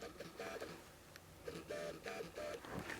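A Fuji XF 50mm f1.0 lens autofocusing on an XH1 camera gives faint, quick mechanical whirs and chirps in short bursts, quiet and close, against a low background murmur.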